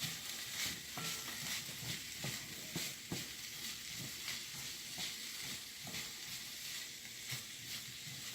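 Apples going into a hot pan for a curry egg dish, frying with a steady bright sizzle while a utensil scrapes and stirs in a loose irregular rhythm, close by with no talk.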